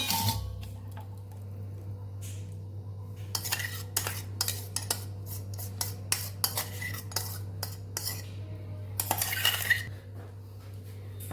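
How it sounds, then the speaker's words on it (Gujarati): A spoon scrapes and clinks against a blender jar while smooth roti dhokla batter is emptied into a bowl, scattered sharp taps and scrapes over a steady low hum. "સ્મૂથ બેટર આપણું તૈયાર થઈ ગયું છે તો બાઉલમાં આપણે કાઢી લઈશું"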